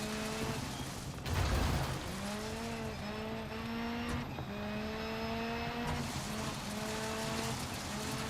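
A rally car engine in the video game Dirt 5 revs and whines through gear changes, turbo boost audible, with gritty rumbling from the tyres on mud underneath.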